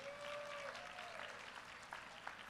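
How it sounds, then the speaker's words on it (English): A crowd of lifters and relatives at a college powerlifting nationals meet gives a faint, scattered round of applause, quiet and distant, with a thin whine running through the start. "Give me a round of applause for USAPL technology."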